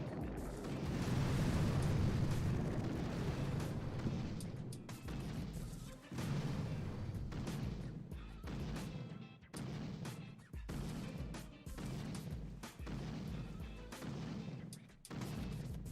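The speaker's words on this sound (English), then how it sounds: "Throw on these rocket launchers." Rocket launcher explosions in the mobile strategy game Boom Beach, a dense, loud barrage of booms and blasts rolling almost continuously with brief gaps; no talking.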